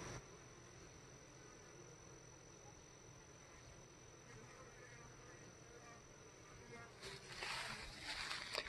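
Honey bees buzzing steadily around a beehive during a dearth, a faint continuous insect drone that grows slightly louder and busier near the end, with a voice talking over it.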